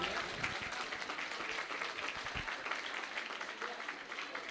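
An audience claps continuously after a Ramayan dance drama in Ayodhya. The dense applause is steady and fairly distant, with a few louder individual claps and some voices underneath.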